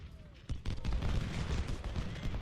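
A ragged musket volley crashes out in the Civil War strategy game Ultimate General: Civil War, a dense run of overlapping shots rolling on continuously for about two seconds.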